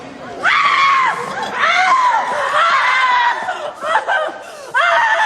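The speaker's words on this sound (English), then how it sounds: "don't scream!" A woman screams loudly in several long, wavering bursts across a few seconds, with brief pauses between them and a faint crowd murmur behind her in a restaurant dining room.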